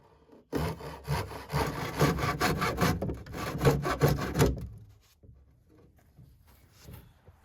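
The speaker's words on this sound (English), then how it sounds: "And then Steve made a series of relief cuts that will make it easier to break out the plug once the layers of fiberglass have cured." A hand saw cuts through a wooden plug used as a fiberglass mold, making relief cuts in quick, rasping back-and-forth strokes for about four seconds before stopping, close and fairly loud.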